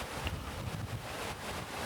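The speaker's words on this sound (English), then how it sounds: "I get to feel the wind blowing on my face." Wind blowing at the seaside, buffeting the microphone in a steady rushing roar with low gusty rumbles, and faint surf and water noise underneath.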